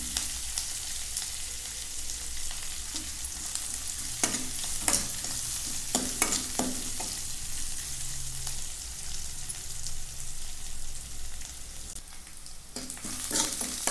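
Onions sautéing in a hot pan for tomato bajji masala, a steady close sizzle running throughout with a series of sharp spoon scrapes and knocks against the pan clustered in the middle and near the end.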